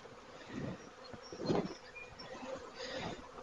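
Honeybees around an open hive during a first spring inspection, with supers being placed on top; a soft, steady hum of buzzing with a slightly louder swell midway, faint and alone with no talking.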